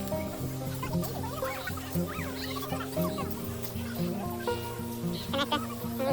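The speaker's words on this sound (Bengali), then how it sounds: "চারপাশে খুব সুন্দর পাখির আওয়াজ আসছে" Birds at Ranganathittu Bird Sanctuary, seen from a bird watching tower, calling over and over in clucking, cackling bursts of mixed pitch, with people talking nearby.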